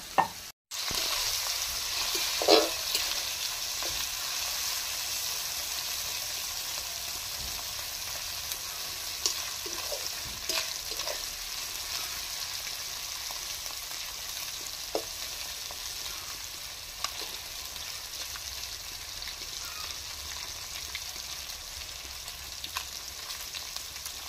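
Prawns (chingri) frying in a pan for lau chingri, a steady close sizzle that runs unbroken throughout with a few faint clinks and stirs, no voices.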